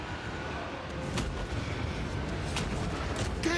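Cannon artillery in the Total War: Warhammer video game fires as crews man the guns, with several sharp booming reports spaced through a continuous loud battle din.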